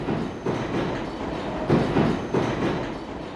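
A London Underground metro train running through a tunnel, with a dense continuous rumble and rhythmic clickety-clack of wheels on rail joints, loud and close throughout.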